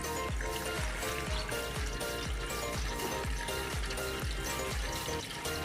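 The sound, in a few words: water being poured into a pot of beef trotters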